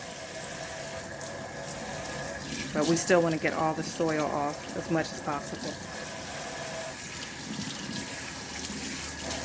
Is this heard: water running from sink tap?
yes